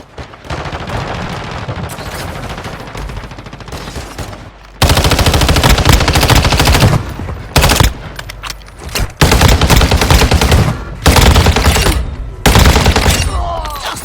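Loud sustained machine gun fire in the mobile shooter Warzone Mobile on Rebirth Island, long rapid bursts broken by brief pauses, close and dominant over the game sound.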